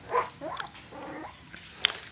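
Several young puppies whimper and give thin, high yips in short bursts nearby, fairly faint, over a low background murmur.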